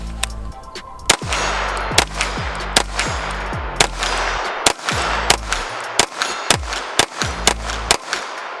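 Ruger PC Charger pistol fired from 50 yards standing, a steady series of about a dozen sharp, loud reports with ringing echoes, spaced roughly a second apart with brief pauses.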